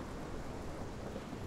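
A thunderstorm with steady rain in Life Is Strange, heard as a dense, continuous roar of rainfall with low rumbling beneath and no talking.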